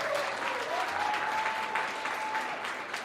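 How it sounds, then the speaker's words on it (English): Steady applause from an audience at a Standard Bank corporate panel event, dense and sustained throughout with a faint high tone running beneath it. "Big round of applause for Standard Bank."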